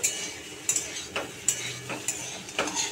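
Soybean chunks fry in hot oil in a pan with a steady bright sizzle, broken every half second or so by scraping stirs and clinks of a spatula against the metal; no voices.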